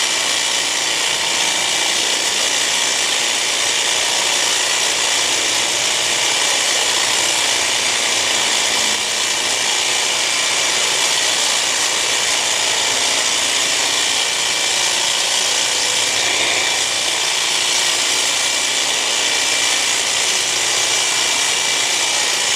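A Milwaukee M18 Fuel hedge trimmer attachment runs steadily while trimming a hedge, a loud, continuous buzzing drone close by that holds level without pause for the whole stretch.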